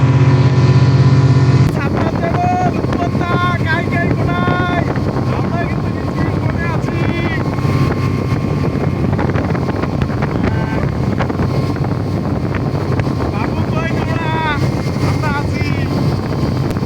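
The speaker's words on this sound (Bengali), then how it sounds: "আমরা স্পিড বোটে এখন আছি কুড়িগ্রাম ধরলা সেতুর নিচে।" Speedboat running on the Dharla river beneath the bridge in Kurigram, with a loud, steady engine drone and heavy wind buffeting the microphone throughout after a brief quieter opening.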